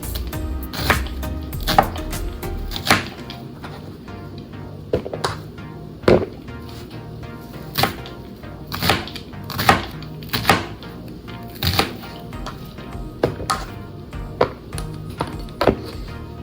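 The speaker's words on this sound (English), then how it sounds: "Let's cut the onion. I'm just gonna cut mine in half." Knife cutting an onion in half on a cutting board, a series of dull chopping thunks at an irregular pace, close and clear over a low background hum.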